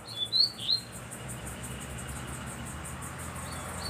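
A coleira seedeater calls near its nest with a few quick bright chirps in the opening second, then falls quiet over steady faint outdoor background hiss.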